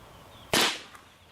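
A single sharp crack from a .22 Mini Mag rifle fired at a pop can outdoors, one loud report that decays quickly.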